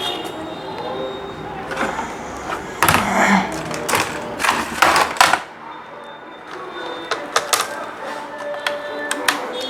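Small sharp clicks and scraping taps as screws are backed out of a laptop during servicing, with a dense cluster of close metallic ticks in the middle and sparser isolated clicks afterward over low room hum.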